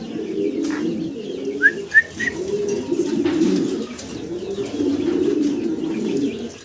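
Caged pigeons at a farm coo in low, soft, throaty murmurs that run on continuously, joined by a few brief chirps and some faint wing or cage rustling.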